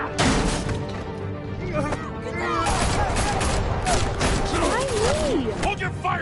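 Gunfire in the Batman: The Telltale Series video game, dense bursts of shots and crashes in a loud continuous barrage, with game voices and tonal effects mixed over it.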